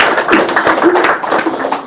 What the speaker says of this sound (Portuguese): Só dá uma salva de palmas para ele.